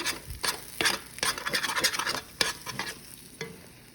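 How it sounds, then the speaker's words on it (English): Mashed beans frying in a pan with cumin, close scraping and stirring strokes over a soft sizzle, irregular and busy, with no talking. "So I just mash them a little bit, and I'm just going to fry them."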